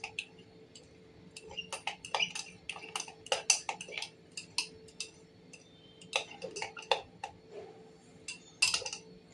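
Preservative being stirred into a transparent shampoo base, a utensil clinking and ticking against the container in irregular light taps and scrapes, close and fairly quiet with no voices.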